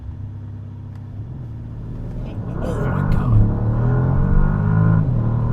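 A 2025 Bentley Flying Spur Speed First Edition launches from a standstill, its engine rumble building into a loud, rising acceleration roar as the run goes on, with a voice exclaiming over it.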